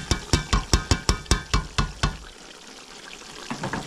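Meat being stirred in a pot with a little cardamom powder for Kabuli pulao, giving a run of about ten regular scraping, sloshing strokes, close and fairly loud, then a quieter simmering pause.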